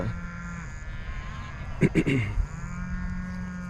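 Cattle on a ranch during a daily check let out a low, close moo, while a brief burst of human voice cuts in midway over steady background noise.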